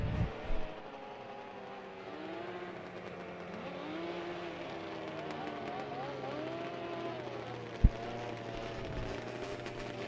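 Vintage snowmobiles racing at a world championship derby, a steady mid-distance engine drone with shifting pitch as sleds circle the track, one sharp bang near the end.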